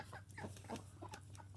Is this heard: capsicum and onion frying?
no